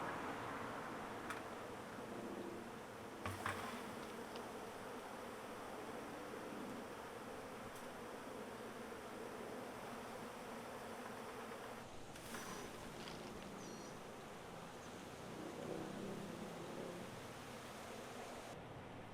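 A swarm of honey bees fanning at a hive entrance inside a van gives a continuous, even buzzing hum, fairly faint and steady throughout, with a few scattered clicks and knocks nearby.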